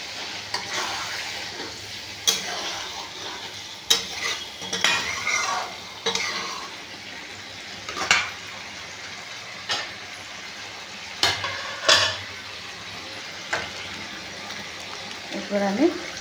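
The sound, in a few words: water added to frying potato leaves, stirred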